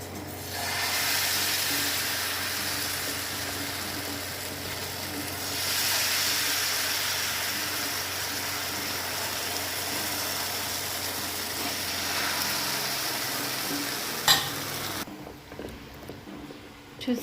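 A wheat flour and jaggery dosa sizzles in oil on a hot pan over low heat, giving a steady, bright frying hiss. Light clinks and scrapes from the utensil come near the end.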